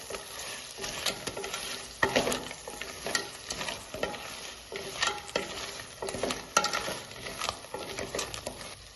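Kerala-style crab curry with a spoonful of tomato sauce is stirred in a pan, with rhythmic scraping strokes over a steady sizzle, loud and close with no talking.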